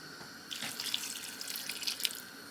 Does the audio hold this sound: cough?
no